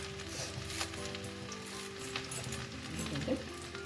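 Chopped ginger and curry leaves sizzle in oil in a frying pan, a steady close crackle with small pops and a few faint clinks of stirring throughout.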